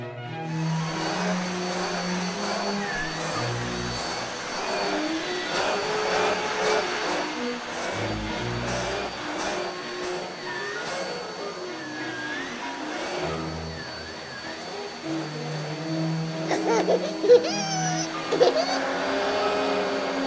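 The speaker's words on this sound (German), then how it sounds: "Jetzt probiere ich den neuen Staubsauger mal aus." A toy vacuum cleaner whirs steadily for the whole stretch at a moderate level, its motor tone wavering slightly, with music-like tonal sounds playing alongside.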